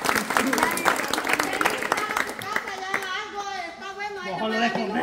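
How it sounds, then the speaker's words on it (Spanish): An audience applauds a young family band of cousins and siblings with a burst of clapping and children's voices, then the clapping fades as people start talking over it. "Aplausos."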